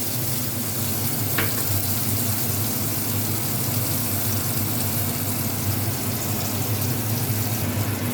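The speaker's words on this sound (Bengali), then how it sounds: "তাই টমেটোটাও দেবো আর একটু পেঁয়াজ কুচিও দিয়ে দেবো" Tomato and chopped onion frying in a pan with nigella seeds for a mustard boal fish curry, giving a steady, dense sizzle that holds evenly throughout, close and fairly loud, with no talking.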